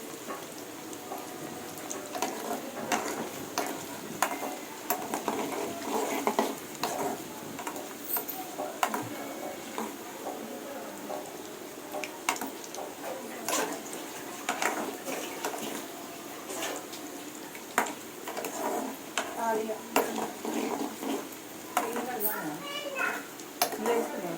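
Paneer cubes frying in a pan for a restaurant-style paneer masala curry, a steady bright sizzle and crackle with scattered pops running throughout, under a speaking voice.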